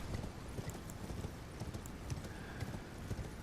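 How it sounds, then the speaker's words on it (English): A horse galloping in Elden Ring, quick rhythmic hoofbeats pounding steadily throughout, fairly close but quiet, with no talk over them. "We can use our horse here, one of the only saving graces of this place"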